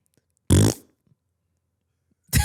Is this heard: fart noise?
yes